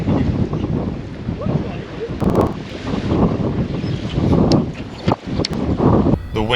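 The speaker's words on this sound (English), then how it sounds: "The wind was particularly brutal at that dam" Strong wind at a dam pounds the microphone in a constant roaring rumble, with gusts rising and falling and a few brief crackles and bumps; loud and close throughout.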